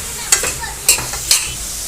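A vegetable curry is stirred in a pan over a soft sizzle, with three distinct scraping strokes of the spoon, close and clear.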